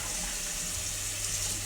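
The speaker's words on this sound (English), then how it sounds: "Turn this water down a bit." Kitchen tap running steadily into the sink while eggs are peeled for curried egg and mayonnaise, a close, even rush of water with no talk.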